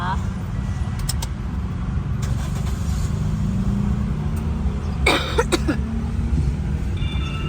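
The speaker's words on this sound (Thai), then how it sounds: "เดี๋ยวสตาร์ทให้ฟังเสียงเครื่องกันนะคะ" Toyota Vios 1.5E with automatic transmission idling steadily after starting, a low continuous engine hum running throughout, with a few coughs and brief bursts of nearby noise over it.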